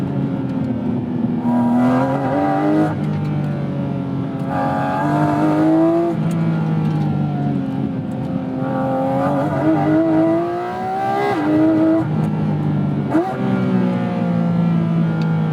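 A Porsche 911 GT3 (991.2) engine revs hard in automatic PDK Sport mode, its rising howl broken by several quick gearshifts that drop the pitch before it climbs again, loud and close from the cabin.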